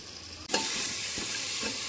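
Spices being sautéed in a hot pan for a Bengali home-cooked dish, a steady soft sizzle with a few stirring scrapes after a brief sharp onset, close by and alone without voices.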